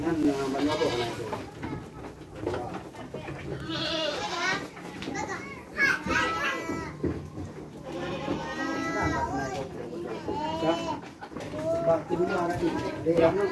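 Several crossbred PE goats bleat repeatedly while feeding in a pen, overlapping cries rising and falling throughout amid people talking.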